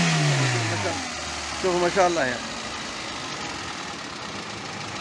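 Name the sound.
Peugeot 206 petrol engine running after installation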